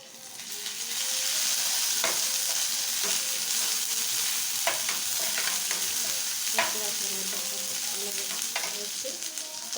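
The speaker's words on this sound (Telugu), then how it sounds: "ఆనియన్స్ వేగినాయి కదా, అల్లం వెల్లుల్లి పేస్ట్ వేసుకుందాం" Onions frying with ginger-garlic paste in a pan for an egg semiya dish, a steady close sizzle with sharp stirring scrapes and clinks every second or two, no voices.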